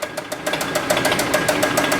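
A 2.4L Dodge engine with no coolant and no serpentine belt runs with a fast, regular knocking pulse, a mechanical clatter repeating several times a second over a steady drone.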